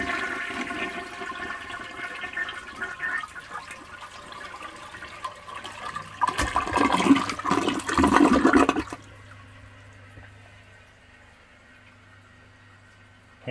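A green Sylenta toilet flushes with paper in the bowl: steady water filling in the background, then a loud rushing flush that surges for a few seconds and cuts off abruptly, leaving a faint refill trickle.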